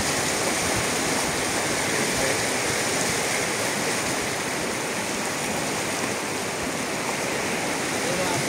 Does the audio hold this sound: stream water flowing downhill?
yes